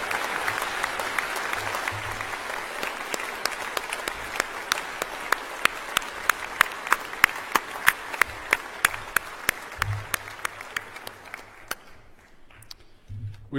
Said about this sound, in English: Let's have a big round of applause for all those who achieved their bachelor's degrees here today